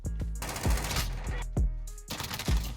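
Shotgun blasts from the 725 in Call of Duty Modern Warfare, with four or five loud booming shots spaced roughly half a second to a second apart over continuous game background noise.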